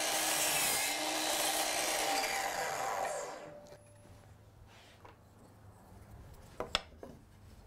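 A hand saw trimming a 45-degree horn off a piece of wood for a yard game, a few seconds of rapid close rasping strokes that end, followed by quiet workshop knocks and small taps.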